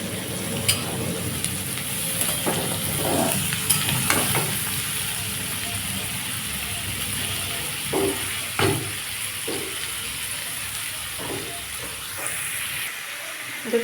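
Snake gourd (chichinga) sizzling steadily in oil in a pan, a dense continuous fry hiss with occasional sharper crackles and spoon scrapes, loud and close throughout, no talking.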